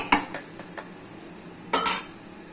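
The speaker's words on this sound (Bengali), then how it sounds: "এই যে দেখেন, পাতিল থেকে ভাত নিয়ে" A metal spoon scrapes and clinks against a cooking pot while white rice is scooped out for serving, giving a few sharp taps and a louder double scrape near the end.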